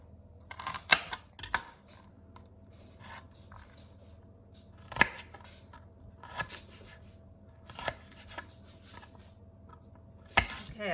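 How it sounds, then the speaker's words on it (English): A knife dices celery into small cubes on a board in a home kitchen, giving sparse, scattered sharp taps and crisp cuts over a quiet background. "so the next job is to dice the celery"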